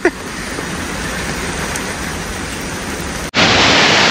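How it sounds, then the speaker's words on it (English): Heavy rain pouring down at Khao Yai National Park in Thailand, a loud, dense, steady hiss close by that swells suddenly louder near the end, with no talking over it. "it's we being literally just drenched by that rain."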